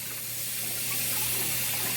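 Cold tap water streams steadily into a sink while crab parts are rinsed under it, a close, even hiss of running water with a faint hum beneath, no voices.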